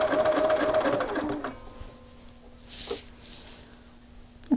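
A sewing machine edge stitches a shirt yoke, running in a quick, steady mechanical burst for about a second and a half, then stopping, leaving a faint hum and a few small clicks.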